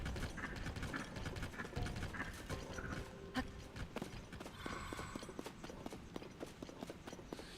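Rhythmic clip-clop of a horse's hooves while riding in a video game, steady repeated hoofbeats at moderate loudness with faint mechanical clicks, and no talk.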